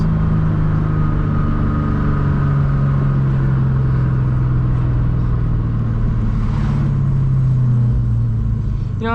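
Rumbling V8 of a 1998 Ford Mustang GT with a 4.6L engine, running steadily loud and close, with the revs rising and falling slightly throughout and no voices.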